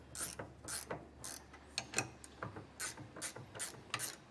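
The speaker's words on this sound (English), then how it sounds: "Now I'm just running these down with a 3/4 inch ratcheting wrench" A 3/4 inch ratcheting wrench runs bolts down on an RV shock-absorbing equalizer install, giving close, repeated bursts of quick ratchet clicks in an uneven rhythm with brief pauses between strokes.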